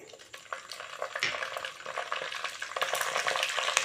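Green chilies sizzle in hot oil for a seela fish curry, a crackling fry that builds in intensity with stirring scrapes, close and loud with no talk.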